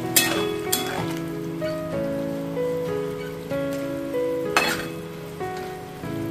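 Water goes into a pan of roasting cauliflower, which sizzles and crackles steadily under a dense, rain-like patter of bubbling, with a few louder splashes as it is stirred in.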